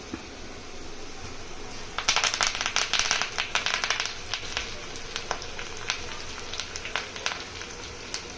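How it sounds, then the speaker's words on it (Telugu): Mustard seeds, cumin and curry leaves spit and crackle in hot tempering oil for dal, a burst of sharp pops starting suddenly and then thinning to scattered crackles over a steady low background hiss, with no talking. "ఇదిగోండి ఆవాలు జీలకర్ర కొంచెం ఎక్కువ వేయండి"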